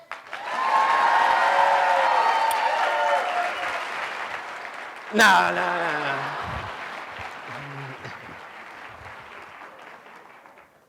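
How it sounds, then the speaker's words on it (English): A crowd applauds at a talk, the clapping swelling quickly and holding for several seconds before fading, with a voice speaking over it and a sharp burst midway as the applause thins out. "Applause, quick."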